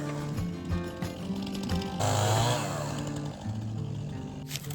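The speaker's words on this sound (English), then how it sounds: "I'm gonna trim up all these little knobs with the chainsaw real quick." A chainsaw engine buzzes and revs, rising into a louder cutting whine for a couple of seconds as it trims knobs off an oak log, before dropping back to idle.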